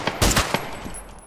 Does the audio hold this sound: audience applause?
no